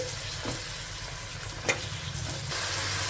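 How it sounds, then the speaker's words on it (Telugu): Tomato pieces and ginger garlic paste fry in a pan for pulao rice, giving a steady close hiss and sizzle with occasional stirring scrapes and no speech. "ఇప్పుడు ఈ టమాటో ముక్కల్ని, అల్లం వెల్లుల్లి పేస్ట్ని ఒక 2 నిమిషాల పాటు ఫ్రై చేసుకోవాలి."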